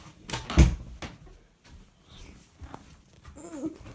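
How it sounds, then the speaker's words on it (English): A door is pushed shut indoors, giving a single sharp thud with a few softer knocks and shuffles around it, while people talk quietly nearby. "Shut the door."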